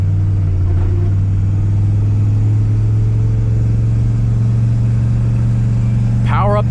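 A diesel OBS-era pickup truck's engine drones steadily as it climbs a hill, a loud, continuous low rumble from inside the cab, with a brief voice near the end.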